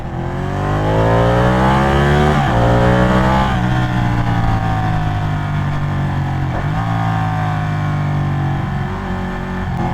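Superbikes, including a Ducati 899, rev loudly on a city street, engines roaring continuously with rising and falling pitch as throttles open and shift, close and dense.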